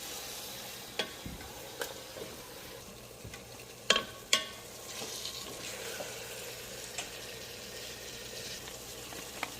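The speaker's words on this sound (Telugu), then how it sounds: "ఇప్పుడు ఇది గ్రీన్ పీస్, పన్నీర్ రెండు వేసుకొని కొంచెం ఫ్రై చేసుకుంటే చాలు." Green peas and paneer frying in a pan, a soft steady sizzle with occasional sharp clinks and scrapes of a spoon stirring, close and fairly quiet.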